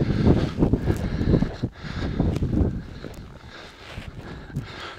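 Wind during a blizzard in Iqaluit, gusty buffeting bursts battering the microphone in uneven surges, loud at first and easing toward the end.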